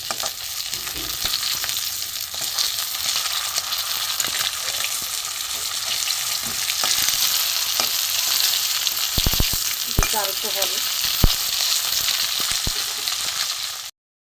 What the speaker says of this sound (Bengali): অপিট অপিট করে ভালো করে লাল করে ভেজে নেবো